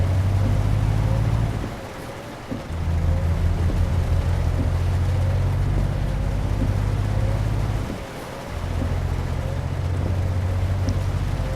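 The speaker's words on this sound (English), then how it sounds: "I really hate driving when it's raining." Rain falls during a truck drive in Euro Truck Simulator 2, a constant wash over the deep drone of the truck engine, which drops away briefly twice as if between gears.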